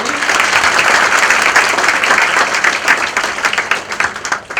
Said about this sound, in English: big round of applause for Yashasvi